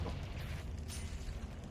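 Confringo blasting spell exploding in a Harry Potter video game, a brief, muffled low rumbling boom that sounds fairly quiet.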